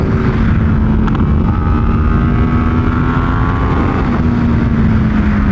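A 2019 Yamaha R1 superbike roars at high revs on a race track, a loud, continuous engine drone with pitch sliding gradually as the bike accelerates, smothered by heavy wind buffeting.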